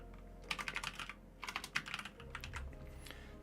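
Two rapid flurries of clicking on a computer keyboard sound close by, a brief pause between them and a faint hum beneath.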